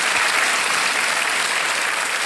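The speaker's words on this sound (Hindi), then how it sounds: "मैं चाहता हूं कि इन सभी को तालियों के साथ अभिनंदन और स्वागत किया जाए।" Sustained applause from a studio audience on a televised quiz show, a thick, even wash of many hands clapping at high volume throughout, with no voices breaking through.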